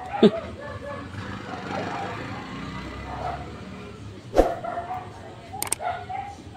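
Stray dog yelping and whimpering outdoors after getting pinched, a few brief cries spaced apart at a distance, with someone speaking over the noise.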